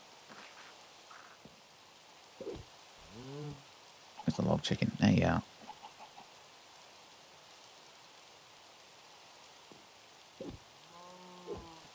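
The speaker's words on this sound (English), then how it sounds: "That's because it just started raining." Steady rain falling in Minecraft, a soft even hiss running throughout while someone talks intermittently and game sound effects pop up.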